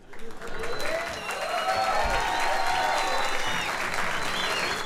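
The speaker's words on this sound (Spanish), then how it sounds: "fuerte el aplauso" An audience at a comedy show bursts into loud, sustained applause, a thick steady clatter of clapping with scattered whoops and shouts over it.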